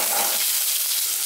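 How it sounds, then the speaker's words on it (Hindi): Spices sizzle in hot oil in a pan, a steady, close crackling hiss throughout, with no voices. "अभी इसे कुछ सेकंड के लिए फ्राई होने देंगे। कुछ सेकंड बाद हम इसमें डालेंगे कटा हुआ आलू,"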